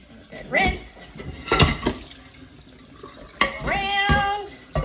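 A stoneware pan being rinsed under running tap water, splashing and clinking against the sink in uneven bursts while someone talks over it.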